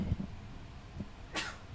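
A single short, sharp human sneeze bursts out near the end of a quiet indoor moment, preceded by faint low murmurs.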